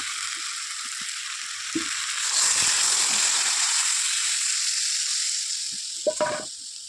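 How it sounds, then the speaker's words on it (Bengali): Water poured into curry frying in a pan, a steady hiss and sizzle that swells as the liquid hits the hot oil, with a couple of short utensil clinks near the end. "এবার জল ঢেলে দেবো"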